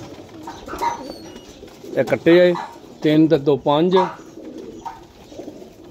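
Flying pigeons, including one bred from a red-bead line, coo in low, throaty bursts close by while someone talks over them.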